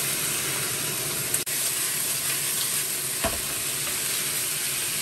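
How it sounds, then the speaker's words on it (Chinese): Potatoes stir-frying in a home wok with pickled chilies and garlic give a steady, close, loud sizzle and hiss, broken by a few brief scrapes, with no talking. "土豆炒断生，加点盐，加一点点鸡粉"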